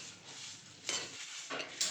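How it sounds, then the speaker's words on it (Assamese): Mustard seeds, coriander, cumin and dried red chillies frying over low flame in a pan, a soft faint sizzle with a few quick stirring scrapes. "একেবাৰে ল' ফ্লেমত এয়া আমি ফ্ৰাই কৰি লৈছোঁ।"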